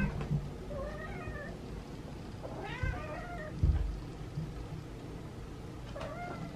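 Several feral cats meow and yowl in a few separate harmonic cries over a steady background rumble, with a couple of brief thumps; the calls are moderately loud and close.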